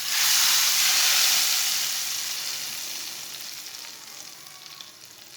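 Hot onion tadka poured into cooked chana dal, bursting into a loud, close sizzle that slowly fades over several seconds.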